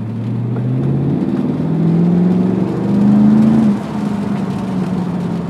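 A Mercedes CLK63 AMG coupe pulls away and accelerates, with a steady, loud engine hum that climbs in pitch through the gears and then eases off, heard from inside the car without talk.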